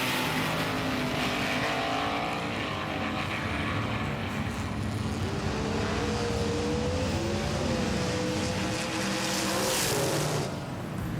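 Race cars, including a T-Bird stock car, roaring around a track, a continuous loud engine drone with rising and falling pitch as the cars swap lanes, close and sustained throughout.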